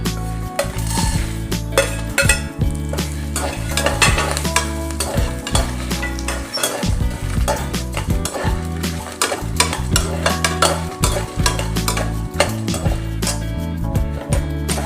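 Spices fry in hot oil for idi sambar as a spoon stirs them constantly, a loud, busy sizzle full of rapid metallic scrapes and clinks against the pan.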